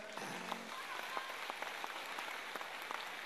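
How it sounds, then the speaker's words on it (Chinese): An audience at a Buddhist dharma talk breaks into scattered applause, a soft crackling patter of claps heard from a distance, fairly faint and steady for a few seconds without speech. "那么就来一点掌声"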